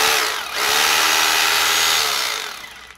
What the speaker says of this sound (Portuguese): furadeira e martelete, que é pra furar concreto